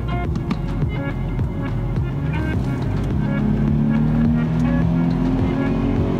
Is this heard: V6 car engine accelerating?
yes